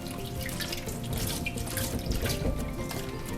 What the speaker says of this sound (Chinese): 我们先把白花椰菜用清水洗干净